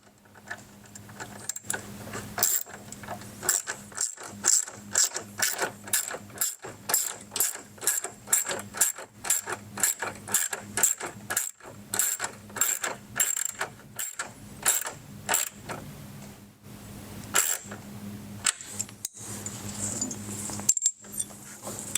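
A 10mm socket ratchet tightens fender kit bolts on a 2024+ Polaris RZR XP 1000, giving a long run of quick, close mechanical clicks in steady bursts, alone without talk.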